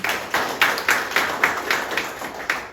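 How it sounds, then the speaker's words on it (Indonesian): Guests at a ceremony in a Buddhist vihara clap in a steady, evenly spaced rhythm, close and clear, with each beat sharp and distinct for nearly three seconds. "Tepuk tangan untuk beliau."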